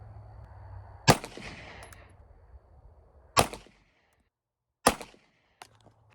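A 9mm SAR B6 pistol firing 124 grain XTP rounds at an outdoor range, three sharp loud shots spaced roughly two seconds apart, each followed by a brief ringing decay, with quiet background between.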